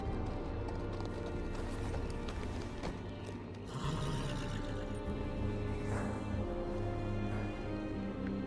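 Horse hooves clop steadily as a rider arrives at the gate of the Wall in the Game of Thrones video game, a continuous rhythmic trot over a dense outdoor background that persists throughout.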